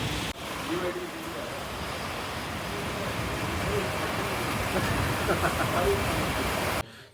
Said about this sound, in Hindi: इतनी अच्छी बारिश आ रही है